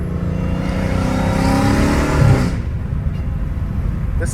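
A car engine revs hard with a rising, harmonic roar that fades out after about two and a half seconds, leaving low rumbling road noise on a narrow street.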